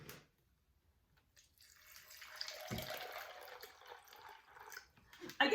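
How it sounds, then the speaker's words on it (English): Water pours steadily into a Nutr plant-based milk maker, filling it to the max line with a continuous splashing rush that builds over a few seconds after a quiet start. "And then you're going to add the water to the max line."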